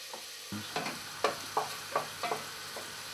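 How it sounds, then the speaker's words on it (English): Smoked lardons frying in a casserole pan over gas, a soft steady sizzle under a string of stirring scrapes and knocks from a utensil, close and faint. "Okay, the first thing I'm going to put in is some lardons. These are smoked lardons."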